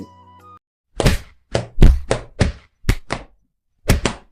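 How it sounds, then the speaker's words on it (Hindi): Blows landing on a person during a beating, a string of six or seven heavy thuds and whacks in irregular rhythm, close and loud, after a brief low rumble at the start. "हरिया, मारो इसे।"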